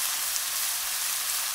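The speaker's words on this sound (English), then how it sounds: "as you see it sizzling away" Red onions sizzle steadily in a pan as they sauté slowly, giving a constant close hiss without pause and with no voices.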